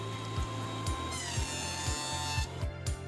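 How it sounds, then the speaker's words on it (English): Jointer cutterhead whirring steadily while a wood blank is flattened, a loud continuous machine drone with regular rhythmic thumps about every half second as the blank is pushed across. "So a few passes on the jointer,"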